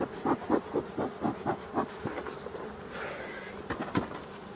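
Honeybees buzz around abandoned hives in a forest, with a pulsing, steady drone that rises and falls rhythmically at close range.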